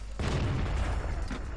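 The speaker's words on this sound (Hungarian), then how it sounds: "Hű, de rossz lövés." A tank cannon firing in the World of Tanks video game, with one loud, booming shot followed by a rumbling tail and a second dull thump near the end.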